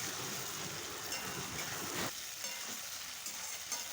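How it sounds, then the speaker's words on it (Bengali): Onion, capsicum and tomato frying together in a pan for khichdi, giving a steady, close sizzle with soft stirring scrapes and no talking. "কেটে রাখা ক্যাপসিকাম, টমেটো সব কিছু একসাথে দিয়ে আরও একবার ভালো রকম করে নাড়াচাড়া করে খুব সুন্দর করে ভেজে নিতে হবে সব কিছু"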